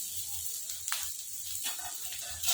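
Taro root (arbi) sizzles in a hot spiced tempering as it is stirred, a steady bright crackling hiss with occasional scraping strokes of a spoon in the pan.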